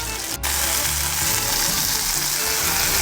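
Cube steak and mushrooms sizzle steadily in a hot pan for beef stroganoff, a close, continuous crackling hiss with a brief dip near the start and no talk.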